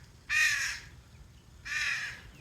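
Crows fighting give two harsh, loud caws about a second apart, each lasting roughly half a second, standing clearly over a quiet background.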